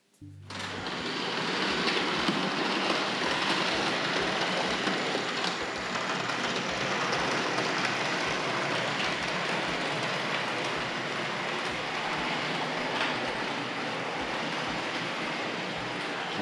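Hornby R.855 Flying Scotsman model locomotive with teak coaches runs through point work on a model railway, a continuous close rolling rumble with rhythmic low clicks of wheels passing rail joints.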